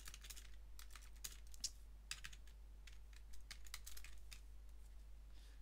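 Rapid, irregular keystrokes clatter on a computer keyboard, close and fairly quiet, with no one speaking.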